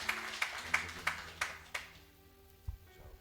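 Church congregation claps in a slow, even rhythm, about six sharp claps roughly a third of a second apart, then trails off into quiet with a faint thud.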